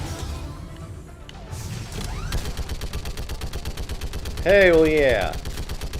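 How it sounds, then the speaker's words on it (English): A mounted machine gun turret fires in the video game Mass Effect 3, pounding out a steady rapid stream of loud shots at a barricade. A voice speaks over the burst, and a rising in-game tone cuts through midway. "Wonder Woman on a machine gun turret."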